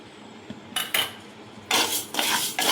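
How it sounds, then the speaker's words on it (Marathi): Fenugreek and fennel seeds dry-roast in a pan over low heat, heard as a few bursts of close scraping and rattling from a spoon stirring against the metal, separated by brief quiet gaps. "मंद आचेवर खमंग भाजून घ्यायचं आहे"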